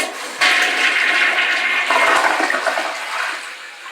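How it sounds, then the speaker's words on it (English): A Kohler Class 5 AquaPiston toilet flushes with its siphon jet restricted: a sudden loud rush of water that holds steady for several seconds, then slowly fades as the bowl refills. "Now you see the toilet completed flush with a full bowl"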